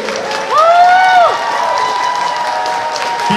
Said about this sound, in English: Let's give a big round of applause one more time.